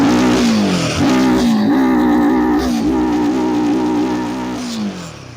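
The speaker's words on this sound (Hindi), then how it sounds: "जब मैं इसके एक्सेलरेटर को थ्रॉटल करूंगा तो आप इसकी आवाज को सुनिएगा" A Royal Enfield Himalayan 450 motorcycle engine revved with the throttle, close and loud, climbing and falling through several blips before the revs drop away at the end.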